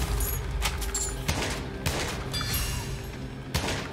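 Repeated gunfire bursts from an unlimited-ammo weapon in the roguelike FPS Immortal Redneck, dense rapid shots with sharper cracks scattered throughout, loud and up close over a busy game backdrop.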